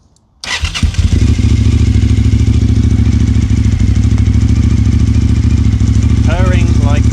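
A Suzuki TL1000R motorcycle engine starts and settles into a loud, steady, fast idle with a rapid even chug. A voice briefly speaks over it near the end.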